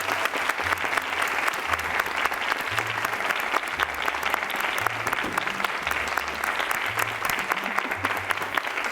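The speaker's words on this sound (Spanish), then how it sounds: "que siga ese aplauso fuertísimo para Germán Castillo" Studio audience at a Spanish-language talk show applauding a guest, Germán Castillo, as he is welcomed: steady, dense clapping throughout with low voices murmuring underneath.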